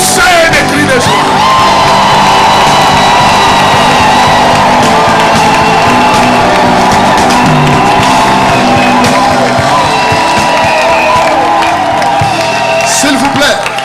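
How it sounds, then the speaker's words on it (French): A church congregation at a New Year's Eve celebration service in Montreal shouts and cheers for joy, a loud, sustained roar of many voices that carries throughout. "Poussez des cris de joie."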